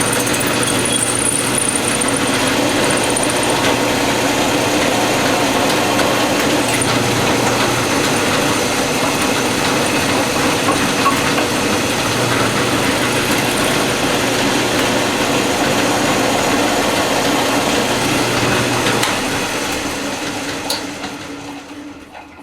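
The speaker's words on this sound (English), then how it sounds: "this is how I drill it" A drill press bores holes in sharpener parts using a preset jig, a continuous loud motor whine with grinding cutting noise that holds steady before winding down at the end.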